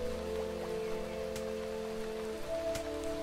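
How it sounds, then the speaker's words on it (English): Steady rain patters in the Starbound video game, a constant soft hiss over a layer of game ambience and music tones, with no voices. "Is this rain? Just regular old rainwater?"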